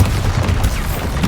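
A Bombarda blast spell fires in Hogwarts Legacy, a dense rumbling explosion with booming low thuds and crackling bursts layered over continuous game noise.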